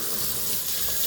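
Tap water runs steadily from a faucet, splashing as fruit fly larvae are rinsed off a fruit fly trap lid, a continuous close broadband rush with no talking.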